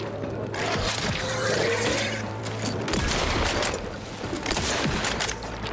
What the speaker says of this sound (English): I don't think this gun does damage to those things, to be honest